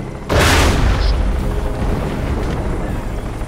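A single loud boom of gunfire aimed at an aircraft in Crysis, a sharp onset followed by a long rumbling tail, close and heavy.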